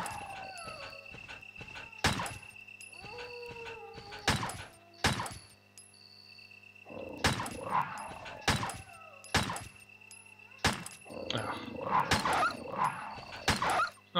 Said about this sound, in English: Alright, now we're killing dogs.